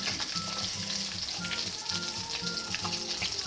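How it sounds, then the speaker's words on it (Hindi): Coated chicken nuggets frying in hot oil, a dense, steady sizzle and crackle close by with faint bubbling throughout and no voices. "नगर्स के मैंने कोटिंग कर ली, अब इनको भी इसी में फ्राई कर लेते हैं।"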